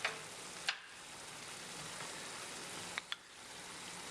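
A garlic and ginger sauce being stirred and thickened in a pan gives a steady, quiet sizzle, broken by a few light scrapes and taps of the utensil against the pan.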